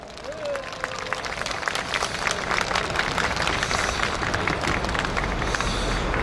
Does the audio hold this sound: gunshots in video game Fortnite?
no